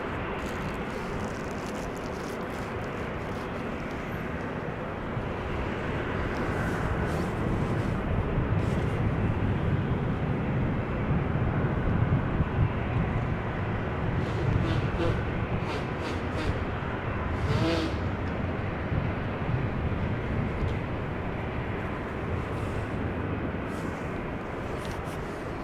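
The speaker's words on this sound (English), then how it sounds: "This is the Turkish A321 that arrived from Istanbul." A Turkish Airlines Airbus A321 arriving from Istanbul at Amsterdam Schiphol Airport, a broad jet roar heard from a distance that swells and holds steady for a long stretch.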